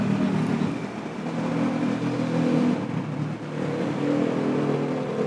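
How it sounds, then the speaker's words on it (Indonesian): A bus engine straining and revving as it forces its way up a collapsed, sunken incline in Cianjur, a steady loud mechanical drone that swells and dips slightly, with no talk. "ini ada video bus yang memaksa melewati tanjakan yang ambles"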